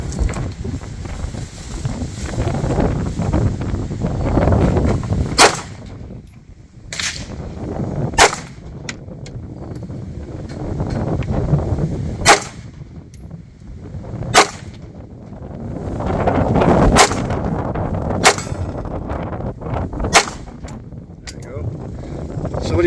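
A CZ P10 F pistol fires single sharp gunshots outdoors, about eight spaced reports several seconds apart, with heavy wind buffeting the microphone between shots.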